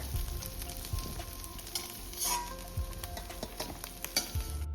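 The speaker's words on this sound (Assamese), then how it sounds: "যোনখিনি কঁঠাল কাটি থৈছোঁ সেইখিনি দি ভালকৈ ৰঙচুৱা হোৱালৈকে ভাজি ল'ম।" Jackfruit pieces fry in oil in a wok over a high flame, giving a steady, moderately loud sizzle with occasional stirring scrapes and soft clunks of a utensil.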